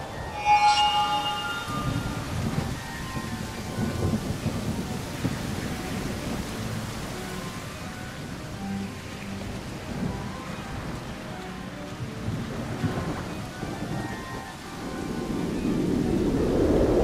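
Thunderstorm ambience from the video game Genie: steady rain hiss with low rolling thunder rumbles throughout, swelling louder near the end, with no voices.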